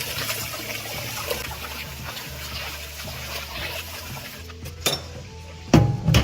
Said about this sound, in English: I usually use salt to wash my rice, so I don't steam it.